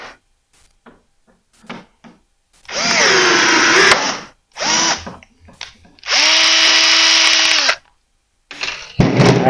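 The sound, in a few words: drill with blind rivet drill adapter setting rivets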